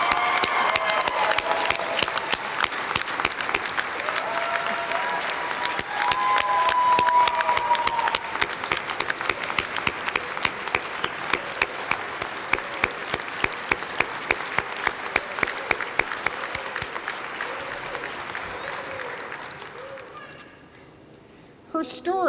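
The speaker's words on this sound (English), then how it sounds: "Give her a round of applause." A ceremony audience gives a sustained round of applause for a family reunification honoree, dense rapid clapping from a large crowd lasting around twenty seconds before tapering off, with a voice returning at the very end.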